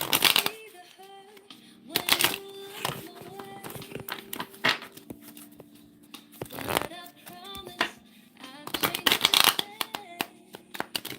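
Gemstone oracle cards being handled and shuffled by hand, with soft papery flutters and brisk riffling bursts that come and go amid quieter stretches and a voice in the background.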